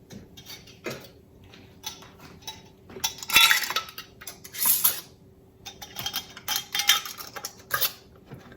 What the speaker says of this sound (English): I'll put the lid on, turn it till it catches, and then go just a little bit further.